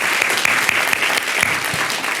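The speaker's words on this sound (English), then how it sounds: "give our whole panel a round of applause" An audience at a panel discussion about making good food affordable applauds steadily with dense clapping throughout, loud and close, with no voices over it.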